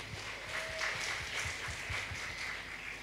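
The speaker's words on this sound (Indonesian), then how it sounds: "Tepuk tangan untuk NU." An Indonesian religious lecture audience claps in a continuous, moderately distant round of applause, steady throughout with a faint rhythmic patter beneath.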